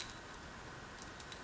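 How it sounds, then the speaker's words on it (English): Keys on a small lock from Dollar Tree give faint, sparse metallic jingles, a few light clinks scattered over a quiet room background. "is this lock with keys"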